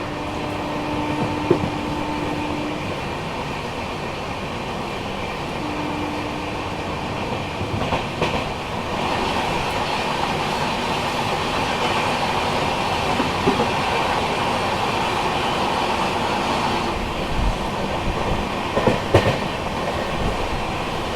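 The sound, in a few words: passenger train running on single line section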